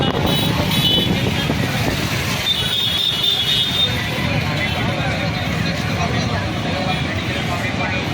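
Street traffic streams past at an old bus stand on a busy market day, with engines and wheels making a continuous close roar and a high squeal partway through. A person talks over the noise.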